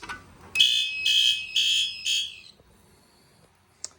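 Homemade fire alarm system sounding indoors in a basement, very loud: four shrill, high electronic pulses in a steady rhythm, then a short click as it is silenced.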